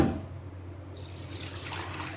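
Water drains steadily from cheese that has soaked for four hours as it is strained in a kitchen, a continuous close trickling and splashing flow with no talk.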